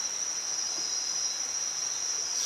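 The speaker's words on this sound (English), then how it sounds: "and then the crickets" Crickets chirp at night in a rainforest, a steady high-pitched trill holding constant throughout with no other sounds or voices.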